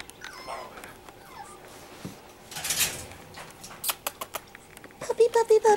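A Pekingese puppy whimpers in short high squeaks close by, along with scuffling and pattering movement sounds, ending in a quick run of rhythmic yelps or whines; a voice talks faintly in the background.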